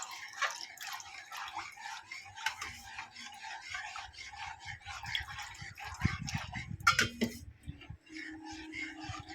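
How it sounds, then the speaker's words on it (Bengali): Water goes from a bowl into rice flour for papad, with three more bowls added; soft, quiet splashing and trickling sounds up close, with a denser pour and stirring noise in the later part. "এই পর্যায়ে আমি আরও তিন বাটি জল দিয়ে দেবো"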